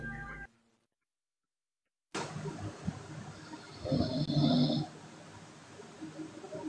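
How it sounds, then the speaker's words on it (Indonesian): A man snoring in a church setting, with one heavy rasping snore standing out against room noise after a brief silent gap. "Ngorok pula dia"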